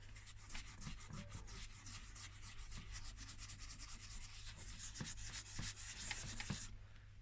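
Wheel trim on a Nissan Almera N16 being sanded smooth, producing steady, close abrasive rubbing strokes in a continuous rhythm with no talking.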